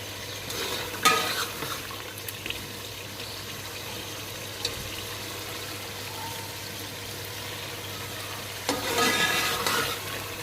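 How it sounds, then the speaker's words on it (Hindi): Masala being stirred with a spoon as it fries in oil, a steady soft sizzle throughout with scraping stir strokes near the start and again at the end. "इसको हमें अच्छी तरीके से चम्मच इसके अंदर चलाते रहना है ताकि हमारा जो ऑयल है वो अच्छी तरीके से ऊपर आ जाए।"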